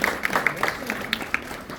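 A room full of people at a high school NIL panel gives student athletes a short burst of scattered applause, uneven claps close by with voices murmuring underneath.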